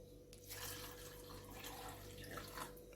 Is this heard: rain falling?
no